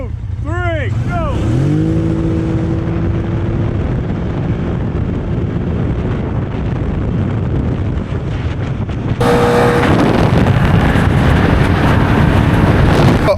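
A Can-Am Outlander ATV and a CFMOTO 1000 ATV drag race at full throttle, engines revving hard and climbing through gears with a loud, continuous roar and heavy wind buffeting. A voice is heard.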